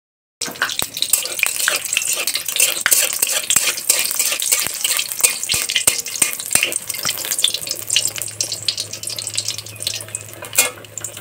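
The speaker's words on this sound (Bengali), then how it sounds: "দিয়ে গরম গরম বেগুনিটা ভেজে নিই।" Battered eggplant fritters (begunis) frying in a pan, a steady dense crackling sizzle with sharp pops and clicks throughout, close and fairly loud, with a low hum joining near the end.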